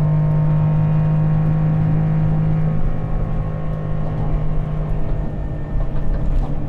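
A Honda Beat small roadster's engine drones steadily as the car climbs a hill, a loud close hum with a sustained tone that eases off midway into rougher rumble and road noise.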